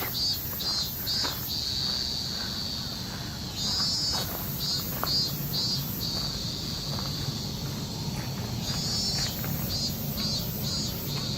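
Cicadas buzz in summertime Tokyo, Japan, in repeated high, pulsing bursts over a constant outdoor hum, some bursts clustered and rhythmic, moderately near.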